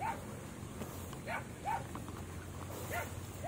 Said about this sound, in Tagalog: Binabatok na pati tayo ng aso.